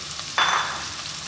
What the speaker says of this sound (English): just for a few seconds we're going to keep these moving in the pan